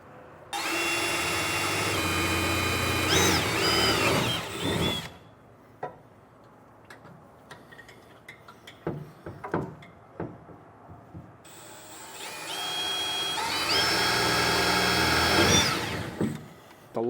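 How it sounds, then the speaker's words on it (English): A power drill whirs loudly for several seconds while drilling pilot holes through a truck bed for gooseneck hitch safety chain loops, stops for scattered clicks and taps, then whines again for another long burst. "Now we'll get pilot holes run through our safety chain loops."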